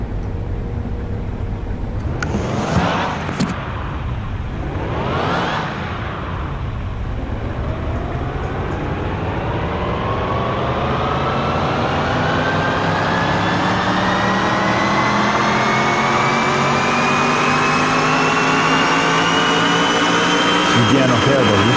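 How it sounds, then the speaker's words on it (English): Engine of a 1957 Chevrolet Bel Air taxi on a dynamometer, revving twice in quick bursts, then winding up in one long, loud, rising pull that holds near full power to the end. "Here we go with the dyno test"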